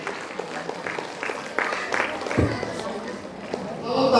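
An audience claps at a women's empowerment gathering in Hanumakonda, Warangal; a broad, steady patter of many hands carries on through the clip while a voice talks over it.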